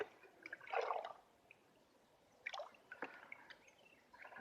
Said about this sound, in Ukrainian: Буду під кожен фундук вливати по 2 літри